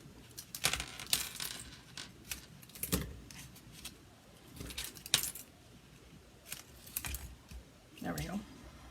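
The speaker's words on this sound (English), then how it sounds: "I'm going to fold this one over and cut it a little." Paper card pieces being folded and cut at a craft table, with scattered crisp snips, rustles and taps at irregular intervals, fairly quiet and close.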